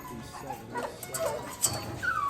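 Puppies whimpering and yipping at close range, a string of short high-pitched whines and squeaks rising and falling over about two seconds, with a faint background of movement and no clear talking.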